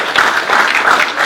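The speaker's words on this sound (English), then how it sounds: "Give them a round of applause." An audience at a business talk on navigating uncertainty breaks into applause, a brief, loud, dense burst of clapping from many people, heard up close and without speech.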